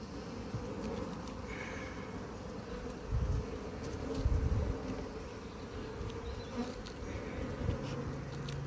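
Honeybees buzzing around an open hive in an apiary during a spring Varroa treatment visit, the hive's combs holding ivy honey and pollen, a steady close swarm hum with a couple of louder passes, no voices.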